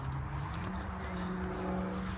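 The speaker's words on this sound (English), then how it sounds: "Can you hear traffic?" Road traffic heard from a woodland campsite, a faint, steady rumble of passing vehicles in the distance, continuous and low under the outdoor quiet.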